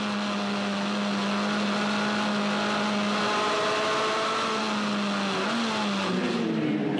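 Formula Ford race cars with Spectrum chassis racing around the Eastern Creek Raceway track give a loud, continuous engine drone whose pitch holds steady, then shifts and climbs as the cars accelerate.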